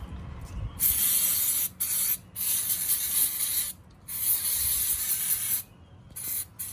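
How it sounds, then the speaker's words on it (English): Brake cleaner sprayed onto the front brake caliper of a Subaru Impreza WRX GD, several loud hissing bursts of varying length separated by short pauses, close and with no talking. "I might just give us a quick shot of brake clean just to get everything nice and fresh with the caliper"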